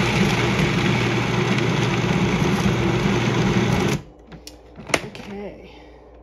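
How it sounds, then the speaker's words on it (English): A food processor blends cream cheese for a cheddar cheese ball, whirring loud and steady for about four seconds before it cuts off, leaving a few scattered clicks and handling sounds. "I'm going to process part of this right now"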